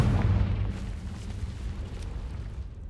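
Confringo blasting spell explosion in Hogwarts Legacy, a deep, rumbling boom that bursts at the start and rolls on as a heavy low roar, with crackling debris layered over it.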